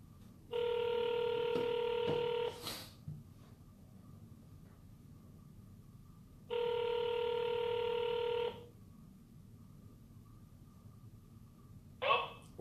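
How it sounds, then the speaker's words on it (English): A telephone keypad sounds its touch-tone beeps as a talk-show host dials a guest, two separate bursts of rapid dialing tones with quiet between them and a short click at the end. "Let's get Wonder Boy on the phone here"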